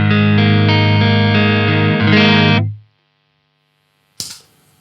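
Clean electric guitar chord stabs with no reverb, played through a Keeley Omni Reverb pedal: a sustained, bright chord rings loud and close, cuts off sharply to silence, then a short, sharp strum sounds alone.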